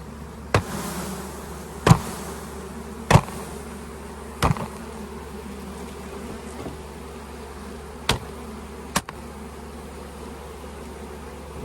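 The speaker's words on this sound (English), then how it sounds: "face it downwards, and knock the bees into the hive." Honey bees hum in a low, steady buzz as a frame is knocked into a hive, punctuated by several sharp, loud knocks spaced a second or more apart.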